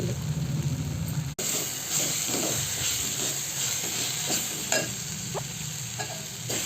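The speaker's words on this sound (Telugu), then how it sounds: "పచ్చిమిర్చి, టమాటో, చింతపండు, ఎల్లిపాయలు, కలమాకు, బీరకాయ పొట్టు ఇవన్నీ వేసుకొని కొంచెం మంచిగా మగ్గాలి." Ridge gourd peel, green chillies, tomato, tamarind, garlic and curry leaves cooking down in a hot pan for chutney; a continuous loud sizzle with scattered scraping stirs and one brief cutout.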